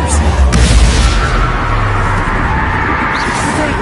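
A spell blast from Bombarda bursts in a magic duel, a loud deep boom with rumbling low-end debris that fades over a few seconds.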